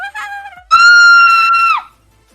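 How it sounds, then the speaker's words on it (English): A group of people lets out a single loud, sustained scream on cue for about a second, with some chatter just before and silence after. "they're gonna all scream. Everybody scream."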